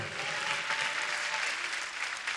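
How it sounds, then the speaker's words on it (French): Warm, continuous clapping from a concert audience at a show, even and sustained without a break, slightly distant and moderately loud. "Vos applaudissements, Sarah."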